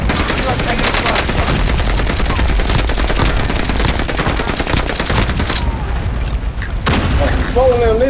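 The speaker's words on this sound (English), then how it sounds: "Oh, somebody shooting at me." Rapid, loud automatic gunfire in Call of Duty: Modern Warfare with dense continuous bursts that thin out toward the end, where a few scattered shots and electronic game tones remain.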